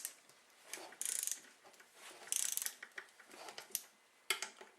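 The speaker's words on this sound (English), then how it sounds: "So we've got our little torque wrench set at 17. This is an inch-pound torque wrench" An inch-pound torque wrench set to 17 ratchets while snugging bolts on a TX 440 during a restoration, giving short bursts of crisp, close clicking with brief pauses and scattered ticks between them.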